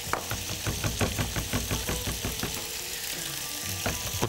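Crushed garlic and spices frying hard in a very hot pan, a steady loud sizzle with regular knocking strokes of a utensil against the pan throughout.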